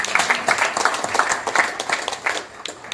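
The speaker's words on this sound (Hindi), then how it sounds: "तो आप सबके लिए हमारी तरफ से और आपके लिए भी तालियां" An audience at a hospital event for cancer survivors claps in a dense, steady patter of many hands. It holds at moderate loudness for about three seconds.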